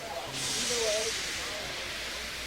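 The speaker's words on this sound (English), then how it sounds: "He just let off steam feebly." A steam locomotive lets off a soft, feeble hiss of steam that starts abruptly and holds steady, fairly close, with no talk over it.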